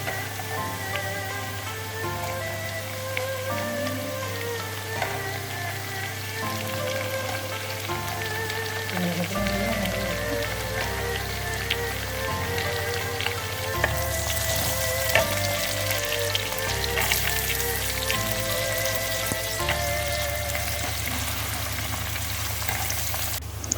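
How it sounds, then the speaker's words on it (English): Onion, garlic, chili padi and sliced carrot sizzle steadily in hot oil in a pan for a vegan fried kuey teow, a continuous frying crackle with occasional stirring scrapes, no talking. "Saute the onion, garlic, chili padi and sliced carrot"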